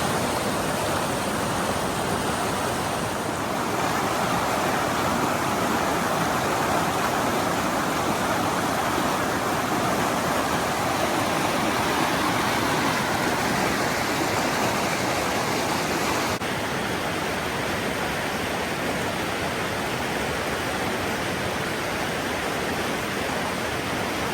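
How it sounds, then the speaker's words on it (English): Snowmelt water pours down a mountainside in a rushing stream, a continuous loud hiss and roar that stays even throughout with no voices over it. "There is so much water coming down off the mountain."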